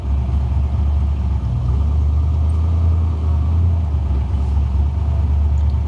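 A 1965 Shelby Cobra with a stroker engine, a Ford Performance test mule, idles steadily with a deep, even rumble while it backs up in reverse, loud and close with no talking.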